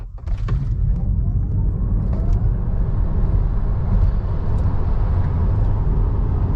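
Tesla Model 3 Performance accelerating at full throttle from 0 to 100 on a track, a steady loud low rumble of road and motor noise that rises slightly through the run, with no speech.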